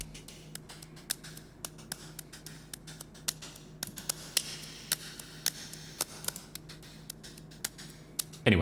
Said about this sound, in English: And with this, the clapping loop sounds like this.